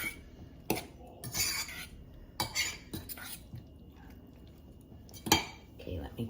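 Grits soufflé batter is stirred in a bowl, with sharp intermittent clinks and scrapes of a utensil against the dish over a quiet background.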